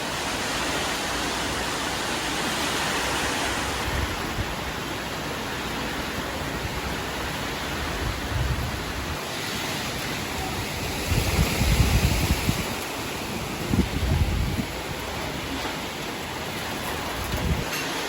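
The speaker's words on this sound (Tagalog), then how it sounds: "bumukas na po ang ulan." Heavy typhoon rain from Typhoon Uwan pours outside a house in a dense, roaring wash, swelling in a few louder gusts of downpour, with no voices.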